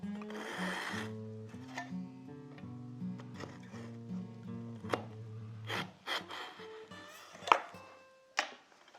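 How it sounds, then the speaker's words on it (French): Several short scraping and rasping strokes of a hand saw cutting pink ivory wood, with sharp knocks and taps, over soft background music. "et normalement en 2 coups de scie c'est fait."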